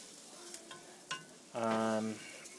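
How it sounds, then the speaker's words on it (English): Risotto rice being stirred through oil in a pan, with faint scraping and sizzling, a few light clicks, and a louder rough humming burst partway through. "So we're going to coat that in the oil there"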